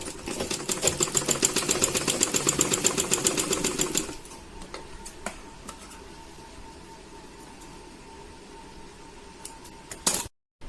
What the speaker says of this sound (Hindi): और इसके ऊपर से एक बार और सिलाई करेंगे, यहाँ दबा देंगे किनारे से चला करके